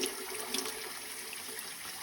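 Water runs steadily and close by during a dog's bath, a continuous hissing spray with no other sounds.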